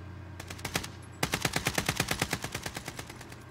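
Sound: gunfire in video game Call of Duty Warzone

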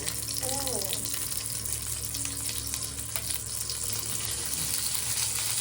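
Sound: nigella seeds and green chilli tempering sizzling in oil

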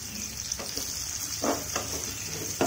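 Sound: pumpkin and chili frying in a pan

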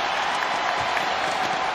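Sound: basketball arena crowd cheering and applauding

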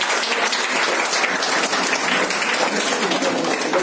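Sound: audience applause

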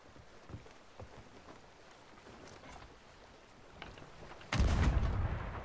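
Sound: ship cannon firing in video game Sea of Thieves

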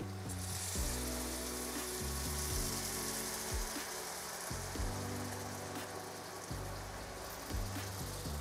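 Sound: chicken broth poured into pan

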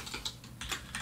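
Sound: typing on a computer keyboard

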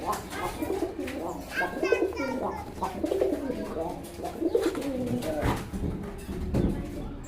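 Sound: red Bombay pigeon cooing

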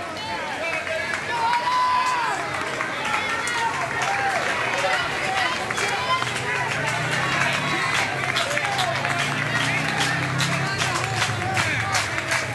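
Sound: crowd cheering at baseball game

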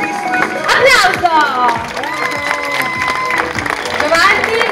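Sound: applause at a fashion show

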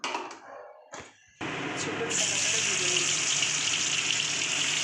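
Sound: bitter gourd and pumpkin frying in oil

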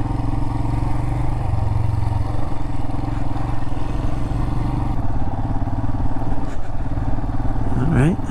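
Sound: motorcycle riding on rutted canyon jeep trail

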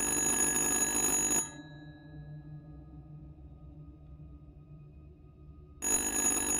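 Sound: telephone ringing in the video game Little Hope

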